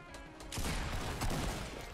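Rapid bursts of gunfire from the video game Fortnite: a sharp volley erupts after a brief quieter moment and continues in a dense, loud rattle to the end.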